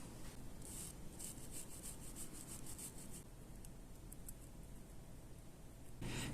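A rifle bolt soaked in brake cleaner is scrubbed with a brush, giving a continuous close, quiet, gritty rubbing and scraping with rapid repeated strokes, no talking.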